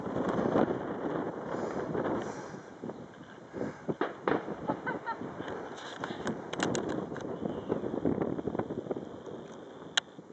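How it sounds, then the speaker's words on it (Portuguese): Gusty wind buffets the microphone with a steady low roar at Lapinha da Serra, a mountain range, swelling and easing in waves, loud and close throughout. "Tá ventando pra cacete."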